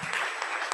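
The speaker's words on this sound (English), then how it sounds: "Give Ms. Roy a big round of applause." Brief burst of audience applause at a business summit and awards ceremony, a dense, steady patter of clapping filling under a second.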